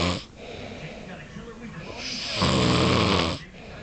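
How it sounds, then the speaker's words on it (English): A man snores in loud, rasping breaths, with a long heavy snore near the end and other people talking over it. "do you snore?"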